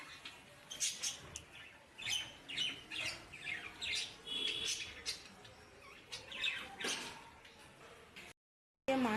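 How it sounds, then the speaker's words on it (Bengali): Budgerigars chatter and squawk close by in rapid, uneven bursts of chirps and harsh calls that go on steadily for several seconds. "বদ্রি পাখিগুলো কী সুন্দর নানা রকমের শব্দ করে কথা বলছে"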